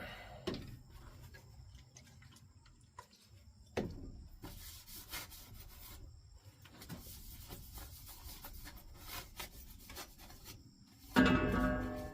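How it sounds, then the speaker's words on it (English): A rag wipes down a brand-new axe with degreaser or rubbing alcohol, giving soft, steady scrubbing strokes with a few sharper scuffs and a louder rub near the end; quiet and close, with no talking. "we got to wash it off with a degreaser or rubbing alcohol here"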